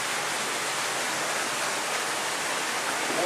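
Hot spring water at the Roman Baths pours into a drainage channel, a loud, continuous hiss of rushing water with a steady level and no voices over it.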